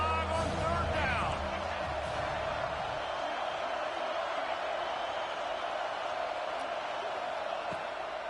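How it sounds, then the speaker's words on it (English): Steady roar of a Buckeye football stadium crowd cheering on third down, a dense wash of distant voices that stays loud and constant throughout, with a brief burst of louder activity near the start. "The Buckeye crowd alive on third down."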